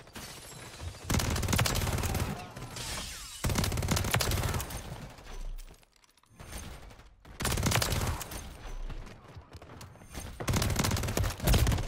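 Rapid automatic gunfire from a WSP Swarm in Call of Duty: Modern Warfare 3, loud sustained bursts broken by short pauses, with a quieter lull in the middle before firing resumes.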